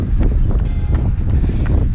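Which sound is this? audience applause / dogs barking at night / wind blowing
wind blowing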